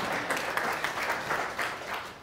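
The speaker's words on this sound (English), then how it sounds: "So go ahead and clap." Conference audience clapping in a room, a steady burst of applause lasting a couple of seconds, moderately close and fairly soft, with no talk over it.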